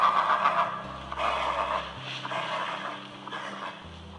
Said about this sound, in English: My number one tip is whining horse sounds.